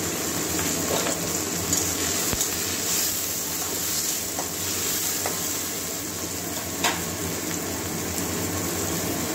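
Chopped tomato and green chillies fry in a hot pan with a continuous, close, even sizzle and hiss, marked now and then by faint clicks and stirring noises, and no voices.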